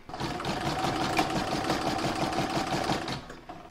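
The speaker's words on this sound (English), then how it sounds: "pop it in my machine and stitch round number 16" An embroidery machine stitches a single-hooped patchwork star design, its needle running in a steady, rapid mechanical rhythm close by and alone throughout.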